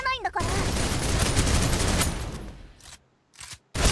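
Shotgun blasts from the video game Snowbreak, a dense burst of loud gunfire filling most of the clip before tapering into a few sharp, separated shots near the end.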